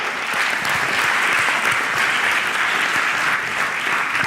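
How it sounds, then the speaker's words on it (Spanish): Steady applause from a church congregation during a sermon, dense and even, filling the room without a break and with no voices standing out. "Denle un aplauso al Señor"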